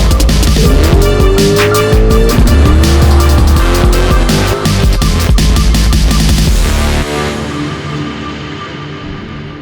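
An LT1-powered street car with a 400 cubic inch small-block makes a nitrous run, its engine screaming loud and close with squealing tires, then the roar cuts off and fades out near the end.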